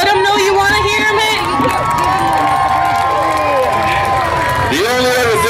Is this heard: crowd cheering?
yes